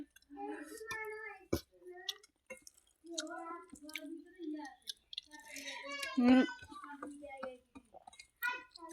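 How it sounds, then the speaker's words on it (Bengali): Soft, wet chewing while eating rice with a fish curry of beans and eggplant, close and quiet, with someone speaking intermittently over the mouth sounds. "এই যে খাচ্ছি"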